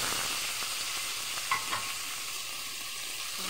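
Pork stir-frying in a home kitchen pan for ginisang upo with sotanghon, a continuous close sizzle with a few scraping stirs of a spatula, no voices.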